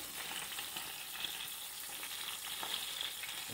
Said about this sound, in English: Just fry them up.